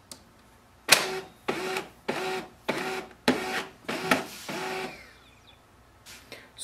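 HP LaserJet M234dwe laser printer powering up, giving a run of about eight evenly spaced mechanical whirring bursts close by, then a short pause and a couple of final clicks.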